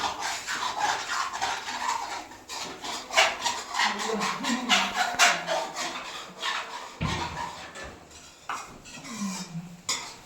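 Continuous scraping and clinking of a metal spoon stirring a fresh green turmeric dish in a hot pan, rhythmic and close, with brief pauses between strokes.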